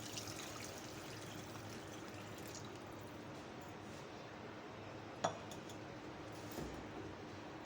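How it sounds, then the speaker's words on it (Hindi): About a glass of water pours steadily into a pot of chicken and green beans with a soft trickling wash, joined by a couple of light metallic clinks near the end. "फिर इसमें डालेंगे हम पानी"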